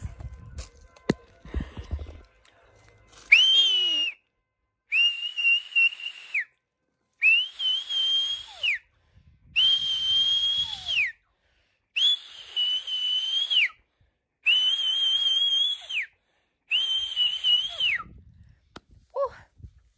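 A person whistles a tune in seven sustained, evenly spaced notes with short gaps between them, close and fairly loud, after some brief handling noise at the start.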